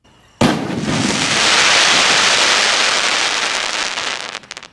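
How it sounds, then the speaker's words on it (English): A firework bursts with a sharp onset, then a dense, sustained crackling from lead oxide in the mixture, loud and close, fading out over about four seconds. "crackle is made by adding lead oxide to the mixture within the formula"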